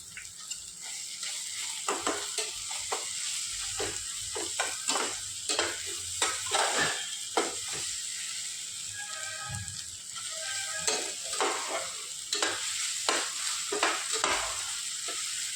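Ginger-garlic paste with onion and tomato being sautéed for a south-style crab masala, a steady sizzle broken by repeated scraping stir strokes throughout, fairly close, with no talking.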